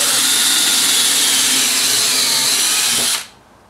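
A power drill whines loudly and steadily as it drives a screw into reclaimed wood for a coffee mug and wine glass holder, running continuously for about three seconds before cutting off abruptly into quiet.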